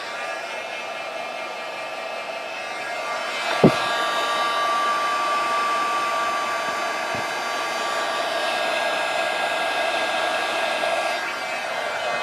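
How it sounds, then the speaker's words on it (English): A heat tool blows a steady, loud whooshing roar as it melts embossing powder mixed with glitter from underneath, running continuously with a couple of brief clicks. "I'm going to heat it up from the bottom because I kind of want it to just really hold on to that glitter"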